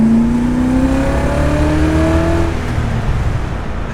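A BMW 540 accelerates hard, its engine note climbing steadily in pitch through a gear, loud and close from inside the car, then settling into a steady drone.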